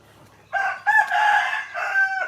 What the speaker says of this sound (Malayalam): ആ കോഴിയൊക്കെ ഉണ്ട് കോഴീനൊക്കെ വളർത്തുന്നുണ്ട്